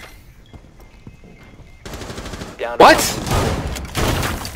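Rapid gunfire in the Rainbow Six Siege beta, a burst of shots fired through a shield during a bomb match on the Consulate map, loud and close after a quiet stretch, with a short spoken remark before it.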